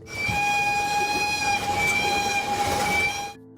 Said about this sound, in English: One of the most charming relics from that era is the Asmara-Massawa Railway.